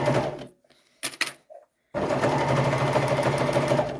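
An overlocker sewing machine stitches the stretchy fabric of children's leggings, with a short whirring burst, a pause with a few small clicks and handling sounds, then a long continuous close, loud mechanical hum.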